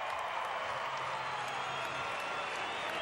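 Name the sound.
crowd applauding a gymnast's routine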